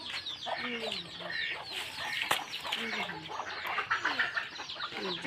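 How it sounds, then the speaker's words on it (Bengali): Several chickens cluck and chatter nearby in short, repeated bursts, a busy village farmyard murmur with occasional sharper calls. "দেখুন কত হাঁস, কত মুরগি পালে"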